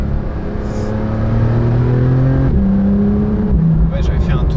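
A Porsche 911 991.2 GTS engine pulls hard under acceleration, its loud steady drone rising in pitch, then dropping at a gear change near the midpoint and again shortly after, heard from inside the car.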